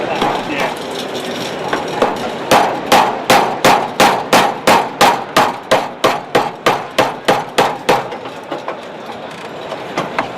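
A hammer strikes a Triumph TR7 car part in a fast series of about twenty sharp metallic blows, close and loud, after a stretch of quieter workshop noise.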